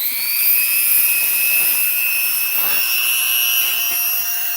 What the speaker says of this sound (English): So we got our Dremel, and we're going to shave this bucking.